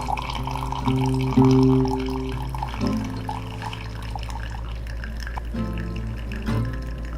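Hot water is poured in slow circles over coffee grounds for a pour-over brew, a close trickling and gurgling stream with shifting tones as the filter fills, with no talking.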